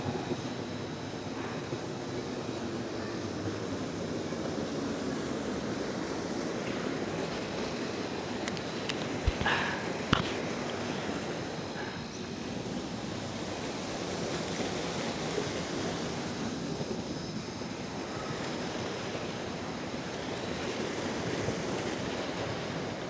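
Water rushes continuously at a river dam, a steady broadband roar heard from nearby, with wind buffeting the microphone and a couple of faint knocks around the middle.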